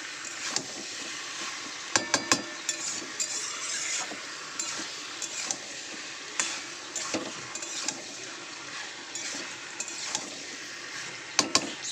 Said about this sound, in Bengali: এটা কিন্তু শুধু মশলার সাথে নাড়বো আর ভাজা ভাজা করব।